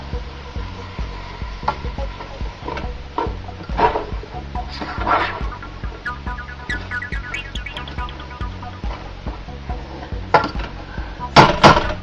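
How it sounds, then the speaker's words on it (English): A spatula scrapes and clanks against a pan while breaking up ground meat cooking over medium-high heat for spaghetti sauce, giving irregular close metallic knocks and scrapes over a low sizzle. "Now this continues to get cooked at a medium-high heat with a fairly frequent stirring and spatula action here to break up the meat"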